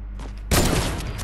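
Burst of rapid gunfire in a trickshot video game, a loud volley erupting after a quiet moment and ringing out for about a second.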